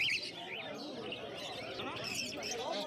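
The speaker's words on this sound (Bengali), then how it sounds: "তো এখানে প্রচুর ককটেল পাখি রয়েছে দেখতে পাচ্ছেন, ব্ল্যাক ককটেল রয়েছে এবং পাল ককটেল রয়েছে।" Cockatiels chirp in high, repeated tweets at an open-air pet bird market in Uluberia, with a murmur of voices and crowd noise underneath.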